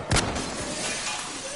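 Window glass shatters in a Battlefield 2042 firefight: one sharp bright crash near the start, followed by a short tinkling decay over steady background noise.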